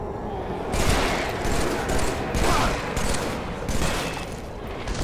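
Sustained burst of battle rifle and shotgun gunfire in the game Halo 3. The shooting rolls on loud and continuous for several seconds in dense, overlapping volleys.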